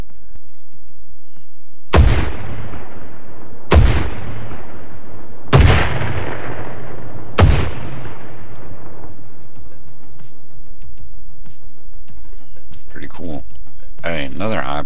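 An artillery salvo lands in a military video game, four heavy booming impacts spaced about two seconds apart, each trailing a long rumbling decay, followed by quieter background activity.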